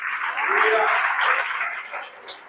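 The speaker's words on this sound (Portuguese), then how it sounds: "Pode aplaudir o Eterno." Church congregation applauding during a family worship service, a dense wash of clapping that swells and then fades over a couple of seconds.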